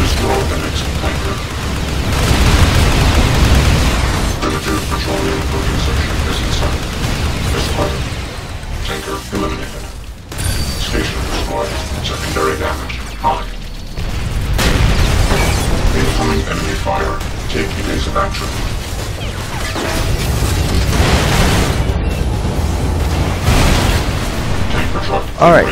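Fuel tanker explosions in the Transformers Revenge of the Fallen video game: dense, continuous booming and rumbling blasts, loud throughout, with brief dips between bursts of destruction.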